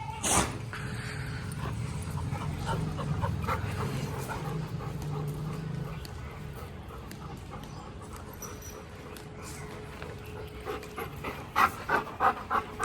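Several hungry dogs pant and whimper while waiting for a gate to open at feeding time, steady close panting with occasional yips, no talk.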